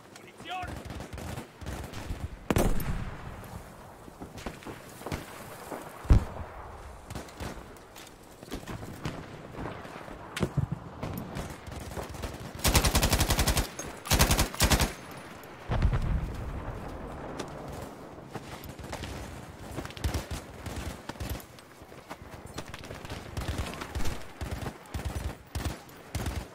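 MG34 machine gun bursts in Battlefield V crackle in short, scattered volleys amid distant battlefield gunfire, with a louder sustained burst midway and soldiers' voices calling out in German.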